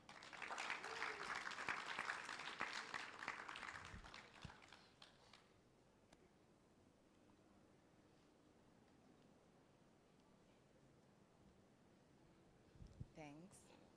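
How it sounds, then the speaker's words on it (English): Conference audience at a blue economy summit applauding to welcome a speaker, a loud burst of clapping that fades out after about four seconds, followed by quiet room tone and brief talk near the end. "We welcome her with the clap."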